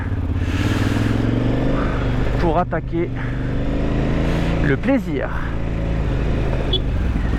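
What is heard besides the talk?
group of motorcycles riding off through Tangier traffic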